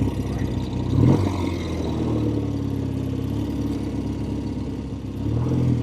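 A classic Triumph TR6R 650 motorcycle with original patina runs steadily, its engine note rising with a brief rev and clunk at a gear change, then settling into a smooth, close mid-range drone.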